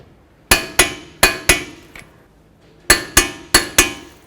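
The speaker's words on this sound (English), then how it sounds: "Now let's torque these two to 148 foot-pounds." A torque wrench clicks sharply and loudly in quick metallic pairs while axle bolts on a 2006-12 Ford Fusion are tightened to 148 foot-pounds; four bursts come close together, a pause, then four more.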